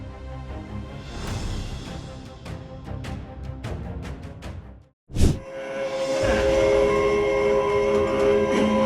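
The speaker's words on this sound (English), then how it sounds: "Despite the train conductor's warning horn, the collision occurred as the driver crossed the tracks." A train rumbles past up close with a loud whoosh, then a sustained horn blares over the steady roar of the rail cars.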